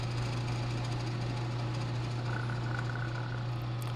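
A hole being drilled into a Surefire flashlight: a constant, loud mechanical drone with a steady low hum, unbroken from start to finish, close by.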